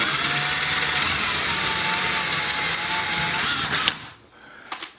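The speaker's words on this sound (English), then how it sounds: "we're just going to use the small drill bit, because we have a stud in there." A power drill with a small bit bores into a wall stud during a vent-free gas heater installation, whining steadily and loudly for about four seconds before stopping, followed by a brief clatter.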